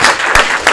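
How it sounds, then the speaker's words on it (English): Audience applause at a city council meeting, a short steady burst of clapping from the crowd, loud and close. "Big round of applause for Miss Jamie Lee."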